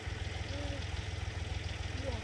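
A tractor engine idles steadily nearby with a low, even, throbbing pulse, and faint voices speak over it at times.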